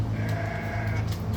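A sheep gives one sustained, wavering bleat, close and clear over a steady low background, with no voices.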